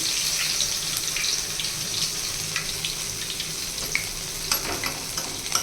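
Garelu, lentil fritters, frying in hot oil, a steady broadband sizzle filling the whole stretch with small pops and bubbling bursts near the end, close and fairly loud with no voices.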